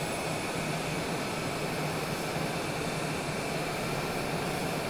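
An airplane engine drones steadily in the cabin during an approach and sweeping right turn toward landing at Bend, Oregon, a continuous, even roar with no talk over it.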